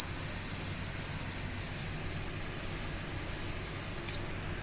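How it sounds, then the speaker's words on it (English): The warning buzzer on a LiFi vehicle-to-vehicle communication prototype, set off by its rear ultrasonic detector, sounds a steady, shrill, continuous tone for about four seconds and then cuts off with a small click. "so our second rear ultrasonic detector means, so it will also activate the buzzer"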